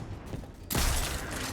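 A single loud shotgun blast from Destiny 2, hitting abruptly after a quiet moment and leaving a broad, sustained roar of echo and debris that fades slowly.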